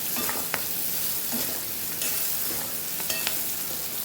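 Red chilli powder gets stirred into chilli sambharo frying in a pan, a soft steady sizzle under occasional scrapes and clicks of the spoon against the pan.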